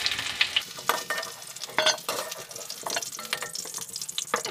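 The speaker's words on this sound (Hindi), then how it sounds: "ये देखिए, आलू हो गया फ्राई, अब इसको निकाल लेते हैं दूसरे बर्तन में।" Potatoes fry and get stirred in a pan of oil for Bengali-style chicken kosha. Busy sizzling runs throughout, with repeated scraping and clattering strokes of the spoon close by and no voices.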